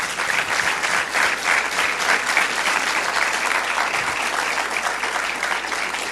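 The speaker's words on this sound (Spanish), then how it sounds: "vamos a darle primero un aplauso a Dios y luego a todos" Sustained audience applause fills a youth church camp gathering, dense and steady clapping from a large crowd held at an even level for several seconds with no voices on top.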